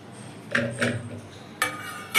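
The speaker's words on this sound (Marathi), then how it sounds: "त्यासाठी कुकरमध्ये आपण या कैऱ्या टाकून घेऊयात." Raw mangoes dropped into a pressure cooker for boiling give a few clattering clinks of fruit against metal, spaced apart and at close range, with quiet kitchen background between them.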